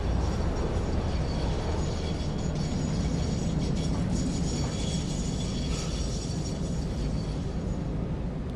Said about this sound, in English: Train stops at the station.